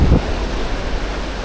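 Strong wind buffets the microphone along Canasvieiras beach, with surf rolling in beneath it; a heavy gust opens the clip, then a steady roaring wash of wind and waves continues with no voices.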